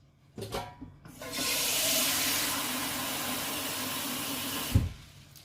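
Tap water running steadily into a container in a home kitchen, drawn for washing groundnuts, a broad rushing stream lasting several seconds after a few brief knocks, close and alone with no talk.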